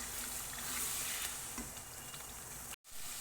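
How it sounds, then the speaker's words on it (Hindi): Chicken and potatoes sauté in oil in a pan for a Pakistani-style curry with black-eyed beans, giving a steady close sizzle with faint scraping of a spoon, broken by a brief silent gap near the end. "अब बस आलू के साथ इसकी और भुनाई होगी तो ये रेडी हो जाएगा"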